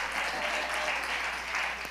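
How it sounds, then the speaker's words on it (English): A church congregation claps during a sermon on the Holy Spirit, a dense continuous wash of applause with a faint voice murmuring underneath, steady and moderately loud throughout. "Clap your hand if you understand what I'm saying tonight."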